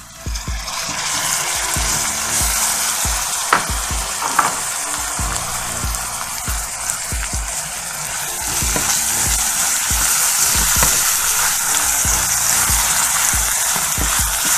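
Tomatoes hit hot oil in a pan for masala bhindi. A loud, close, continuous sizzle swells and stays strong, broken by soft stirring knocks against the pan.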